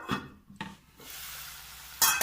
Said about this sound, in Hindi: टमाटर प्यूरी और मूली के अच्छे से पकने तक और तेल छोड़ने तक हम इसे बीच बीच में हर 1-1 मिनट में चलाते हुए पकाएंगे